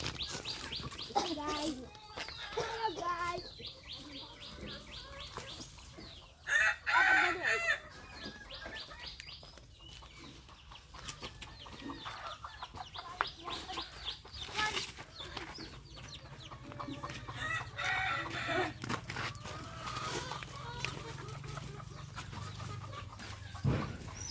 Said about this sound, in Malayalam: നമുക്കൊന്ന് കോഴിക്കുഞ്ഞിനെ ഒന്ന് പിടിക്കാൻ ശ്രമിക്കാം.